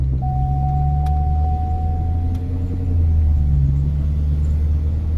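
A flood-damaged Corvette's engine rumbles steadily at low revs up close during its first test drive, with a faint whine running over the drone and no talking.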